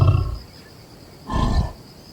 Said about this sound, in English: He lets out a prideful roar,